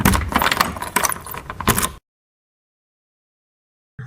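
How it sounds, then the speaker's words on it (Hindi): Bright metallic jingling of a bunch of keys, shaken in a busy burst for about two seconds and then cut to silence, with a short faint sound at the very end. "चे से चाबी"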